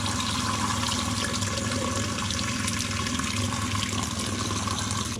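Water steadily rushes into an RV gray water tank with a quarter cup of bleach added, a constant, close, broadband hiss and gurgle that holds at one level for the whole stretch without any voices.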